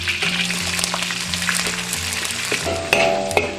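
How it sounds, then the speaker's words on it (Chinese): Garlic, ginger and whole spices such as star anise, bay leaf, cinnamon and dried chilli sizzle and crackle steadily in hot cooking oil, with a low hum beneath and a few sharp clinks of a utensil near the end. "锅中倒食用油，下入大蒜、生姜、香料这些全部炒香"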